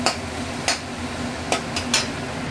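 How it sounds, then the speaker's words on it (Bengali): Boiled whole mung dal frying and being stirred in hot oil in a pan, a soft continuous sizzle punctuated by a few sharp scrapes and knocks of a spoon against the pan, close up. "তো আমি এর মধ্যে দিয়ে দেব সিদ্ধ করে রাখা মুগ ডাল, গোটা মুগ ডাল"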